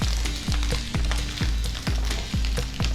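Ghee rice with sugar being stirred in a pan, rhythmic low thumps of the spoon roughly twice a second over a continuous soft sizzle, close and steady.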